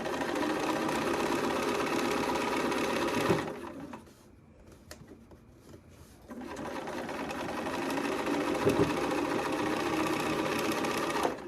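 Sewing machine stitching a quilt block in a steady mechanical whir, pausing briefly for about three seconds before running again, loud and close.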